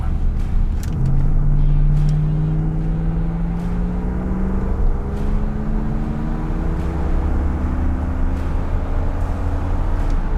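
A 1982 Corvette engine accelerating while driving, its steady rising drone pulling up through the gears, loud and close with constant road and wind roar underneath.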